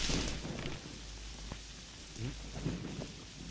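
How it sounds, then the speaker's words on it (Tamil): Heavy rain pours steadily, close and dense, while low rumbles of thunder roll underneath through the whole stretch, with no voices. "மழை இப்படி பெஞ்சிட்டு இருக்குதே."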